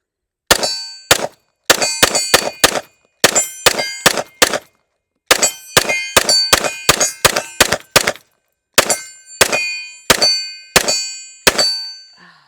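A Smith & Wesson M&P M2.0 pistol rings steel targets in quick strings of shots, each hit a bright metallic clang with a short ringing decay, fired in several rapid bursts separated by brief pauses, with no speech.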